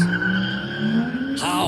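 A four-wheel-drive race car launches from the start, engine note climbing steadily in pitch over a second or so, then shifting abruptly with a burst of tire noise, loud and close.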